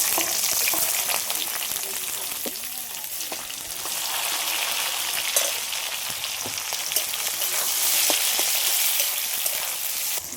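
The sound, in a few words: chopped onion and tomato frying with cumin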